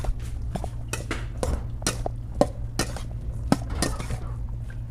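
Metal spoon stirring ceviche with peppers in a bowl, clinking and scraping against the dish in irregular taps over a steady low background hum, fairly close, with no talking.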